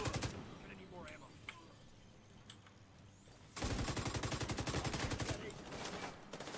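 Enemy gunfire in The Division 2 on heroic difficulty, scattered shots at first and then a dense, loud burst of rapid automatic fire over the second half, with talk partly underneath.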